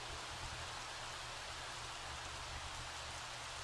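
Steady rain in The Sims 3 fantasy world, a dense, even hiss of falling drops that holds unchanged throughout with no voices.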